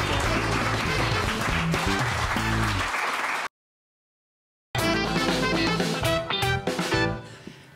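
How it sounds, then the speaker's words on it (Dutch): Studio audience applause on a Dutch television talk show, a dense, loud burst of clapping that cuts off abruptly into silence, then resumes and tapers away toward the end. "APPLAUS"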